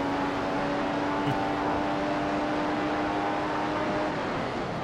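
A Ferrari Formula 1 car in the game F1 2015 at the Italian Grand Prix holds a steady high engine whine with a sustained tone, loud and continuous under a busy noisy bed.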